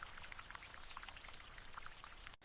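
Water flows continuously out of the ground as a soft, steady trickling and splashing with small droplet-like plinks, quiet and even throughout before a brief cut near the end.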